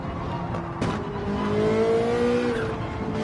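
A Ferrari 458 race car in Gran Turismo 7 at Spa, its engine note climbing and holding in steady, close, loud revs with a brief burst of tire noise, no voices.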